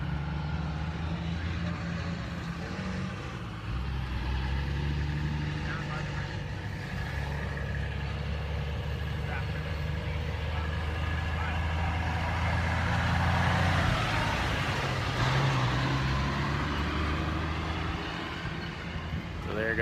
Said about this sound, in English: There goes the water truck.